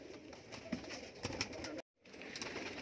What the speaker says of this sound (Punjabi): ਇਹ ਕਬੂਤਰ ਬਰੀਡਰ ਹੈ ਡੱਬ ਵਾਲਾ।